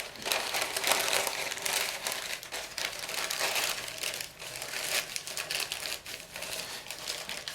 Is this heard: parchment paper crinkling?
yes